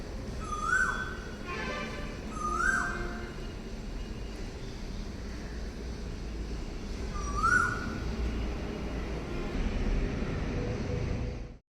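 An Asian koel calls three times nearby with a rising whistled note, each call well separated. The calls come over a loud, constant outdoor rumble like distant aircraft or traffic, with other birds chirping faintly.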